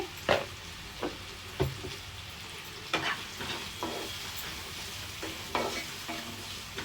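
Onions sizzling in hot oil for a drumstick and cashew curry, with occasional scraping stirs of a spoon against the pan, close and moderately loud, no voices.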